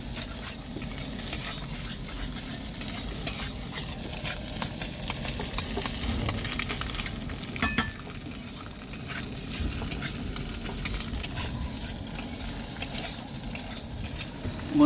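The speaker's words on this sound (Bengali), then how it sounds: "এবার শুধু আলু দিয়ে ডিম দিয়ে ভুজিয়া হবে" Egg bhujia with potato sizzling in a pan while being stirred, cooked in a vehicle; a continuous close sizzle with repeated scraping and clinking of the utensil against the pan, no talk.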